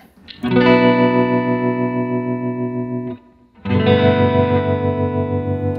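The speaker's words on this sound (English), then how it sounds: "That reverb is coming from the Flint." Two sustained electric guitar chords ring out with lush reverb from a Strymon Flint tremolo and reverb pedal, with a slight shimmer, separated by a brief pause, loud and close.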